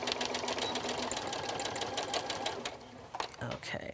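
A home sewing machine stitches through fusible fleece for a pillow, a steady rapid mechanical chatter running close and continuous before briefly stopping near the end, with someone talking over it.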